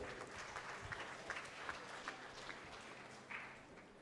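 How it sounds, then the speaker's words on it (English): Faint, distant audience applause fills a bootcamp ceremony hall, a steady patter of many hands with no voices on top. "Please give a round of applause."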